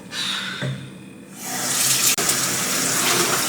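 Tap water gushes into a sink to rinse fresh spinach, starting after a brief quieter moment and then running loud and continuous, with a short interruption partway through.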